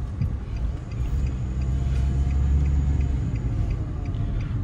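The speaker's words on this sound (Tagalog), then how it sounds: "Daming mga sasakyan" Heavy road traffic streams past a car during a driving lesson, heard from inside as a steady, loud low rumble of engines and tyres with faint ticking, with no talk.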